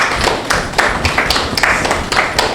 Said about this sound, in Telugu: ఆ ఆనంద స్థితికి అందరం చప్పట్లు కొడదాం